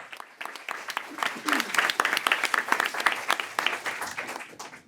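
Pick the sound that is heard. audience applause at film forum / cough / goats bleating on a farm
audience applause at film forum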